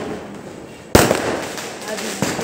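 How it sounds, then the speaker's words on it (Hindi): Diwali firecrackers going off after midnight: one loud, sharp nearby burst with crackling decay, then a second softer pop, with someone talking over the background. "तो भी पटाखा फोड़ रहा है। देख कैसे फूट रहा है"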